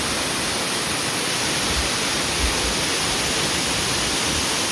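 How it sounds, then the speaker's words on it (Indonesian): A waterfall on the trail up Mount Kinabalu in Sabah, Malaysia gives a steady, dense roar of falling water, even and continuous from start to finish with no voices. "Kita lihat ada curug air terjun apa ini?"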